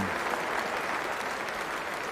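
A large cricket-ground crowd at an Ashes Test against England applauds Steve Smith off the field after his 215, steady dense clapping filling the whole stretch.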